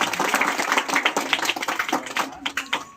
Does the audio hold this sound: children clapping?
yes